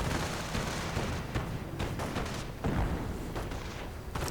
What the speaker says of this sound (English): The anti-tank guns keep up the pressing.